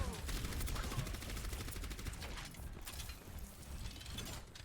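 Rapid automatic gunfire sprays from a weapon in a competitive video game match, a dense rattling stream of shots running continuously at steady loudness with mechanical clicking textures.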